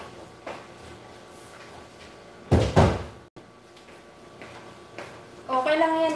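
A door shuts partway through with a single close, solid bang, and a quieter bump follows. Faint background noise runs throughout, and a voice starts speaking at the end.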